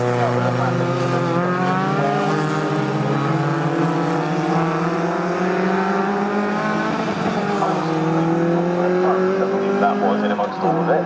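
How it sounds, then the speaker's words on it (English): Several Sports 2000 racing cars pass close by at Snetterton, engines droning and rising in pitch, rear tyres squealing over a steady, loud roar. "The rear tyres squeal more than the engines roar in the Sports 2000s"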